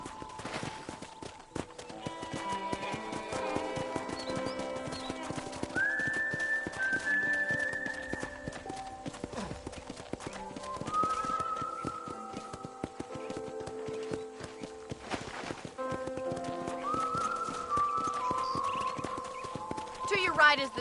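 Rhythmic hoof clip-clops of a horse at a steady gait in Red Dead Redemption, layered with game music tones and a voice speaking over it.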